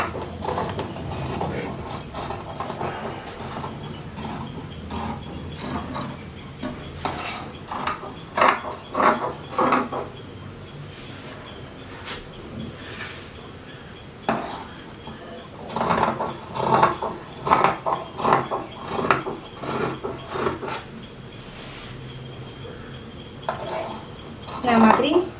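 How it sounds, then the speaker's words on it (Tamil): Scissors cut through blouse fabric in bursts of crisp snipping and sliding blade sounds, close and clear, separated by quieter stretches. "ஸோ இப்போ நம்ம இதை வந்து கட் பண்ணி எடுத்துக்கலாம்."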